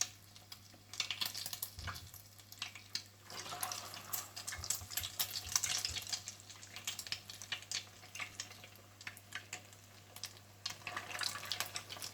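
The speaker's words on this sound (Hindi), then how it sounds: "आप तेल गर्म कर लीजिए और इन्हें अंडे में कोट करके डीप फ्राई कर लीजिए।" Egg-coated vegetable cheese balls deep-frying in hot oil, a steady crackling sizzle with scattered sharper pops and bubbling bursts, continuous and fairly close throughout.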